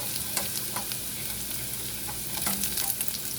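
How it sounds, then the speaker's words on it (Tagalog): Chopped garlic sautés in a hot cooking pot, giving a steady close crackling sizzle broken by the scrape and clatter of stirring, with no talking. "Igigisa ko muna itong bawang."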